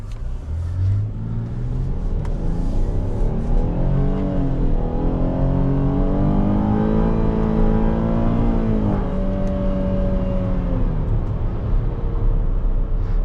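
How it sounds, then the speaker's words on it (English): A 2022 Chevrolet Traverse Premier accelerates with manual shifting, engine pitch climbing, dropping at each gear change and climbing again, a steady cabin drone heard from inside with no talking. "So you could hear that little brake after shifting at a second."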